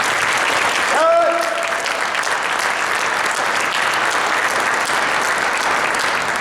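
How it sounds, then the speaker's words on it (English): Steady applause from an audience honoring cadets at a pass in review ceremony, a dense continuous clatter of clapping hands that fills the whole stretch, with a brief tonal whistle or voice near the start. "So a round of applause for them, please."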